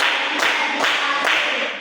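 A group in a classroom claps hands together in unison, three crisp, evenly spaced claps in a steady beat, close and fairly loud.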